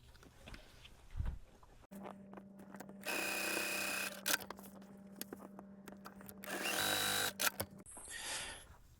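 A sewing machine stitches quilt pieces in two short, rapid whirring runs separated by a pause, over a steady low motor hum and faint handling noises.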